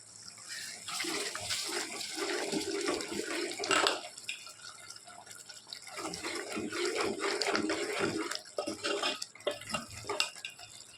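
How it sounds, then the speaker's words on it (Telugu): Water splashes and pours steadily into a cooking pot of spiced tomato rasam for several seconds, pausing briefly midway, with a running, gurgling wash of sound close by. "ఉడికిన తర్వాత వాటర్ పోసుకుంటాం"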